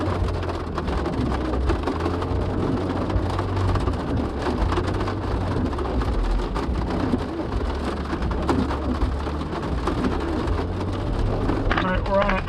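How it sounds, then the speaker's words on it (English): Heavy rain pours steadily in a thunderstorm with tornado risk near a narrow bridge, a constant dense hiss of drops with low rumbling thunder underneath, loud and unbroken throughout. "there's no way I'm making that in the rain, in a thunderstorm, with potential tornadoes around the corner"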